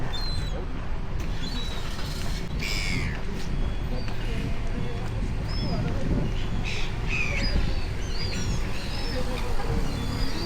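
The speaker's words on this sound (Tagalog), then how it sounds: "Ang dami ibon." Many birds call over a continuous outdoor background in New Zealand, with scattered chirps and a few louder cries rising above steady noise and faint talk.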